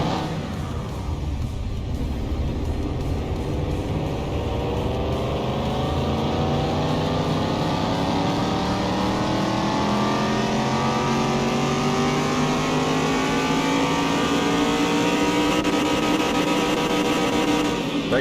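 Engine revving from a D-class 170 car in the PC game Car Mechanic Simulator 2021, tuned to full horsepower, a steady high-pitched screaming rev that climbs gradually and holds loud and close throughout with no talk.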